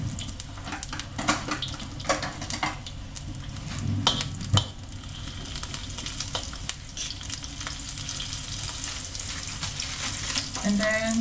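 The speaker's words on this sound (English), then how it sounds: "after the oil's heated up, we actually add in the dried shrimps just to fragrance them up a little bit" Dried shrimps sizzling in hot oil in a pan as a base for vegetable curry, a steady soft crackle and fizz with occasional stirring clatters, close and moderately quiet.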